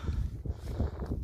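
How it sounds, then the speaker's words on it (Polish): Steady low wind rumble buffeting the microphone, with gusty fluctuations throughout and no clear voices, in an open field during potato digging. "Sorry za wiatr, bo piździ"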